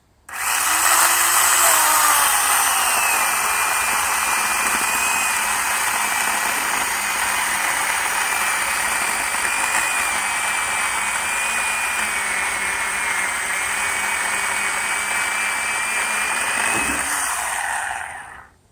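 A Worx WG305 electric chainsaw whines at high speed as it cuts through wood, running steadily for most of the time before winding down at the end.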